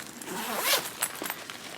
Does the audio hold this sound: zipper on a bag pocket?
yes